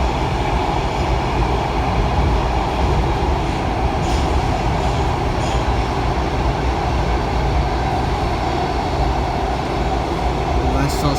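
Riding inside a Washington Metro Kawasaki 7000-series train to Mt Vernon Square, a loud continuous rolling roar with faint clicks from the track, steady throughout.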